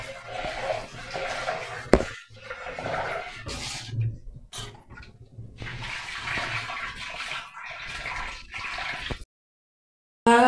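Two glasses of toor dal (pigeon peas) are rubbed and rinsed by hand in water, with bursts of sloshing and swishing broken by short pauses and a few clinks against the vessel, close and moderately quiet.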